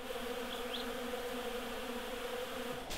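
Honeybees swarm around a bucket of feed syrup, producing a dense, continuous close-up buzz with steady droning hum and occasional individual bees passing the microphone.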